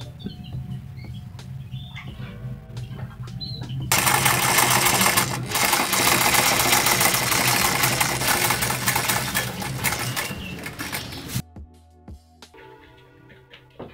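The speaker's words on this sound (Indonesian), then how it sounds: "liningnya itu kita satukan dan dijahit" An industrial sewing machine stitches a shoe's upper and lining together, running loud and continuous for several seconds at close range before stopping, with quieter mechanical clatter before and after.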